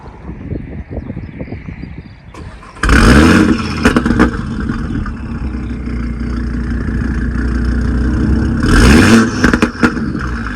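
An Audi RS3 8V five-cylinder engine rumbles at idle inside the car, then bursts loudly into a hard rev that holds and builds, dropping back before a second sharp surge near the end.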